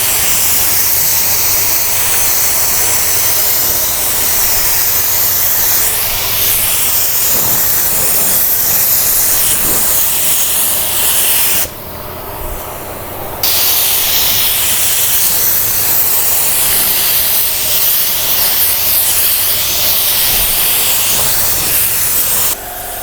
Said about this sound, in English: I'm going to spray this gun wide open.